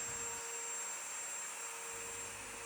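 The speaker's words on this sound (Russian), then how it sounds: "С помощью специальной насадки проходим фрезером по шине." A router on a special attachment runs along a guide rail, milling a plasterboard ceiling with a steady, even whine and rush of cutting noise that holds throughout, fairly quiet and with no voices.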